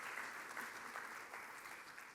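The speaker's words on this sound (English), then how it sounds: "give yourselves a round of applause for coming out tonight to support us" A room of guests at a charity celebration gives a round of applause, heard as a faint, steady wash of clapping lasting a couple of seconds.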